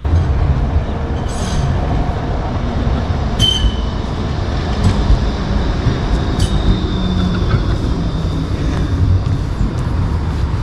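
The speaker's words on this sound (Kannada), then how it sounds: "ಇಲ್ಲಿನ ಟ್ರ್ಯಾಮ್ ಬಂದುಬಿಟ್ಟು ತುಂಬ ಹಳೆ ಕಾಲದ ಟ್ರ್ಯಾಮು" An old tram in Sofia, Bulgaria, rumbles steadily along its rails up close. A few high wheel squeals break through the constant rolling roar. No voices are heard.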